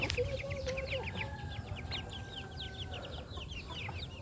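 Chickens cluck in a rapid, repeated series of short calls over a steady farmyard background, with a long whistle-like tone drifting through; no one speaks.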